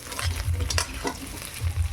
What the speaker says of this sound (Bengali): এবার আমি ভেজে নেব তেলে।